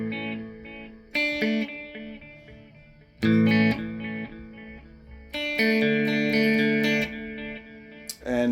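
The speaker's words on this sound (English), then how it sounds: "And then this is just delay pedal." An electric guitar runs through a delay pedal on a pedalboard that also carries distortion, playing sustained chords and notes that ring on with echoing repeats. Several loud strummed phrases come up close, with no voices over them.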